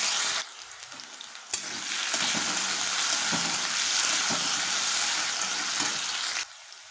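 Chopped potato stir-fried in oil in a pan, a loud close sizzle that swells after a scraping stir and holds steady with soft scrapes, then cuts back down near the end; no talk.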